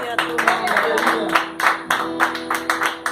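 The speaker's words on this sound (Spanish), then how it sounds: "Dale un fuerte aplauso al Señor." A church congregation claps loud and fast in a dense, irregular burst, with accents about every quarter second and a musical tone sustained underneath.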